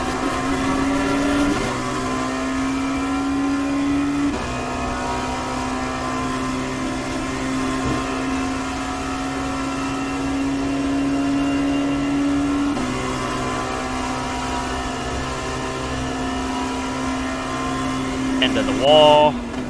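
A Dallara P217 LMP2 prototype at Watkins Glen in iRacing drones steadily with engine tones rising and falling through gear changes, loud and continuous, while someone talks over it throughout.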